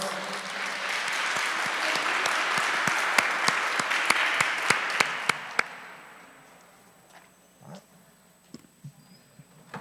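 Church congregation at a Spanish-language mission service gives a warm round of applause that holds strong for several seconds, then fades out, leaving only a few scattered claps.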